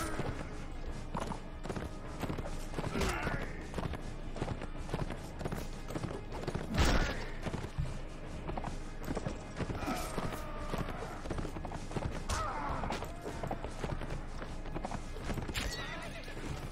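Horse and cart in the ancient Rome setting of Mount & Blade, with continuous clip-clopping hooves, wooden creaks and a whinny, dense and fairly close throughout.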